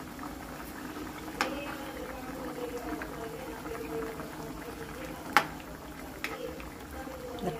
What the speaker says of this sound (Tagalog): Kulon lang natin hanggang lumambot ang ating gulay.